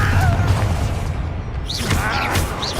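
A Confringo fire spell bursts in Hogwarts Legacy, a loud booming blast with crackling impact debris amid busy game combat noise and a low rumbling bed.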